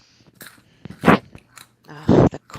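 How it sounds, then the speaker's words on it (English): Crunchy food being chewed close to the microphone, in two loud bursts of biting and munching separated by quieter moments with faint background sounds. "Oh, the crunching"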